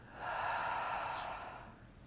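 A single long exhale, a breathy hiss rising quickly and holding steady before tapering off over about two seconds, close and soft with no talking.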